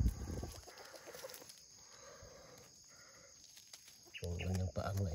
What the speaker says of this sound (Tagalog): Malapit sa ating inahin.